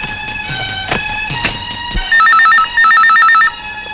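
A telephone rings in two loud electronic trilling bursts, preceded by a few sharp clicks and knocks, in an Indian comedy film scene where someone urgently needs a phone; no one speaks.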